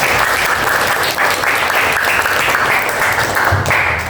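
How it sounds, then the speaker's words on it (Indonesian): A class of students claps loudly together at the end of a school lesson, dense, close, continuous applause filling the whole stretch. "sekali lagi tepuk tangan untuk kita semua."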